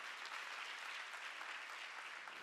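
Soft, steady clapping from a congregation at a church youth retreat service, faint and distant, continuous with no talk over it.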